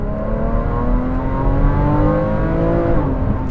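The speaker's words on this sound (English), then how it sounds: "It sounds so good and really has the higher pitched raspy noise now that a GT3 has." A Porsche 981 Cayman S fitted with F1 headers revs hard, its engine giving a loud, raspy, high-pitched note that climbs steadily and holds close by.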